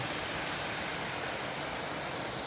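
Tad Huang waterfall, about 10 metres high and 20 metres wide, heard from the path down as a steady, dense broadband rush of falling water with no pauses and no voices.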